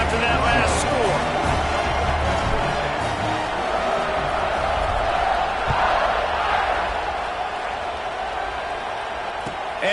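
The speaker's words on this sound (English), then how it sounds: "this crowd is buzzing after that last score" Video game football crowd buzzing steadily after a score, a dense broadband roar of stadium chatter and cheering that holds at full level throughout, with no talk in the foreground.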